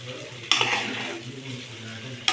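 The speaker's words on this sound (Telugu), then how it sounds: "ఇలా నూనె పైకి వెళ్తే మొత్తం మెత్తగా ఫ్రై అవుతుంది." Fish pieces frying in oil, a continuous crackling sizzle that flares loudly when something is moved in the pan, then settles to a steady background hiss, with another burst at the end.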